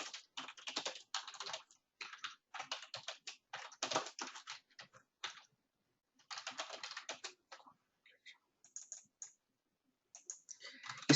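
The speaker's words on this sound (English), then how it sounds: "Let me type it here." Typing on a computer keyboard: bursts of quick, close key clicks with short pauses between phrases and a longer gap near the middle. The room is otherwise quiet.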